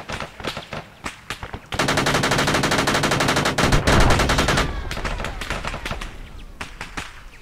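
Sustained machine gun bursts rake a vehicle in a military shooter game, a dense rapid rattle lasting several seconds after scattered single shots, loud and close.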